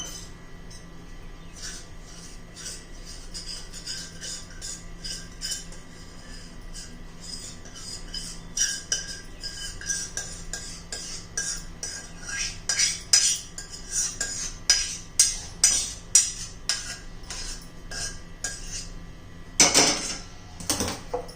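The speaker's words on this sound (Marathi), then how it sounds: "आता आपण हे तूप लावलेल्या ताटामध्ये ओतून घेऊया." Raw mango papad mixture is poured from a pot into a ghee-greased plate, with a spoon repeatedly clinking and scraping against metal, light and close, growing busier toward the end.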